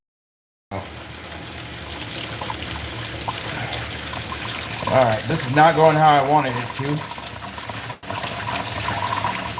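Cold tap water runs steadily into a kitchen sink while burger grease is drained, a constant splashing flow with a person talking over it midway.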